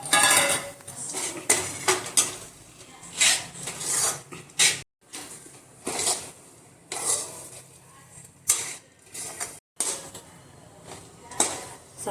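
A date, fig and dry fruit mixture is stirred and scraped in a pan with ghee, giving repeated close scraping and rubbing strokes with short pauses between.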